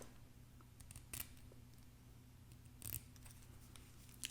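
Small scissors snipping wig lace in a quiet room, a few faint, sharp clicks spaced apart over low background hiss.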